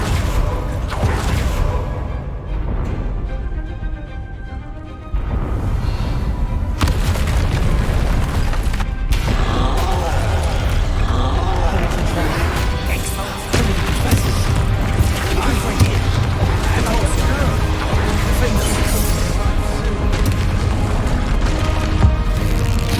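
Bombarda blasting spells going off in Hogwarts Legacy, loud booms and bursts with heavy rumbling across the stretch, mixed with game sounds and a voice speaking at times.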